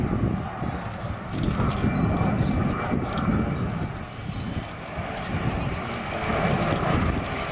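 De Havilland Sea Vixen jet with undercarriage and hook down flying past at an air display, a continuous rumbling jet roar that swells and fades in waves, with a commentator talking over it.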